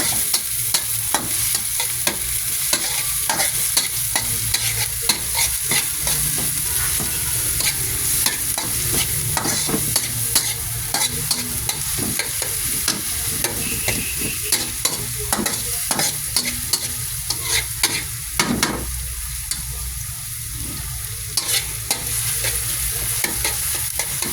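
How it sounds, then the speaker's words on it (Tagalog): Mixed ingredients fry together in a pan until soft, giving a continuous sizzling hiss. A utensil stirs and scrapes in frequent irregular knocks throughout, close up and with no voices. "Ipapray mo muna siya na lumambot"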